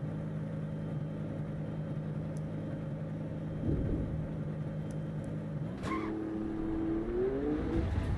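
A GT3 race car engine in the Assetto Corsa EVO racing game drones steadily, then rises in pitch as it accelerates through a gear change near the end, continuous and moderately loud.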